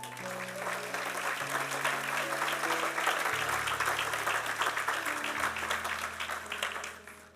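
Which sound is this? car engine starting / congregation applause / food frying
congregation applause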